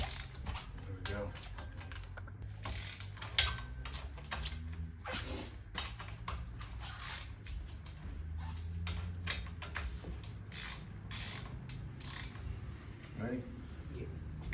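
Socket wrench ratcheting during a Honda F20 B-swap with new flywheel and clutch, a busy run of clicks and metallic clatter with rumbling garage noise underneath and people talking at times.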